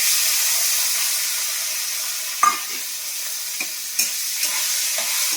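Onions fry in a pan with a steady, close hiss of sizzling oil, broken by a few sharp clicks and scrapes of a spatula stirring.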